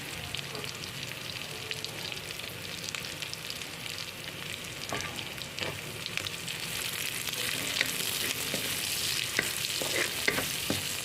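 Ginger frying in a pan for ginataang sigarilyas gives a steady, close broadband sizzle with scattered stirring scrapes that grow a little busier toward the end. No voices are heard.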